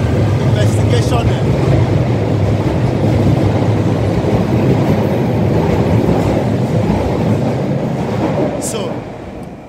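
A train rumbles steadily at a London station, a broad continuous roar of rolling stock and rail noise that holds for most of the stretch before easing slightly at the end, with faint voices mixed in.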